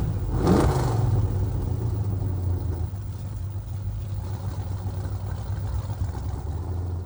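A 1986 Chevrolet K5 Blazer 4x4 with a rebuilt engine pulls away on a drive, rising briefly in a revving surge before holding a steady, rumbling low drone heard from inside the vehicle.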